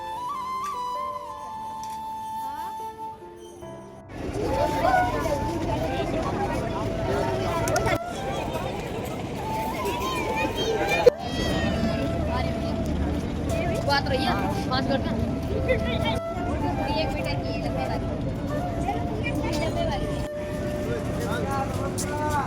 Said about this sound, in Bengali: আমরা এখন দশাশ্বমেধ ঘাট চলে এসেছি, আর এখানে বোট রাইড হচ্ছে